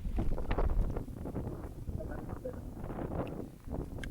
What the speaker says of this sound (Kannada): ಗಾಳಿ ಬಿಡ್ತಲ್ಲ ಇವಾಗ, ತಂಪ ಅನಿಸ್ತಾ ಇದೆ.